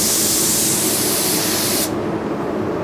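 Continuous close spray-gun hiss of Ford Ruby Red car paint spraying, steady and loud, then the high airy rush stops suddenly about two-thirds through, leaving a low background hum.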